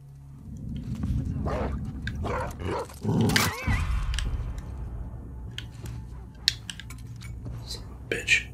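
An enemy dog in The Last of Us Part II barks in several loud, close bursts amid tense gameplay noise, with a player talking over the action.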